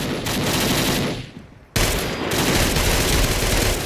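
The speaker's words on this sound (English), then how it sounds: "it's a little .45 machine pistol" A .45 machine pistol, the Enfield MP-45, fired in Fallout 4, loud continuous automatic bursts up close, with a brief pause in fire midway before the firing resumes just as dense.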